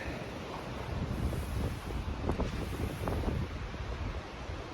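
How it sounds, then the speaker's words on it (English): Strong coastal wind at Arch Rock on the northern California coast roars and buffets a microphone steadily, with a low rumble underneath and gusts rising and falling throughout. "Pretty windy. You might not be able to hear us."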